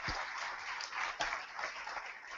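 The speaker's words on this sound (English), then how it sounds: "let's give them one more round of applause" Steady applause from a conference audience at a keynote session, a dense wash of clapping that holds evenly throughout without any voices over it.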